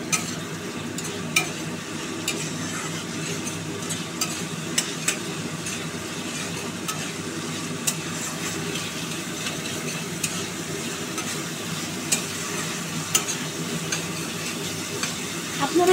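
Spice paste for magur fish kalia sizzles steadily in a pan, with sharp spoon taps and scrapes punctuating the constant close frying hiss.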